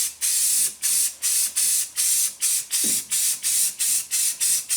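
Bursts of white spray paint hiss from an aerosol can onto parts of a 1961 Cushman Truckster being converted to electric, about a dozen short sprays in an even rhythm, loud and close, with no one talking.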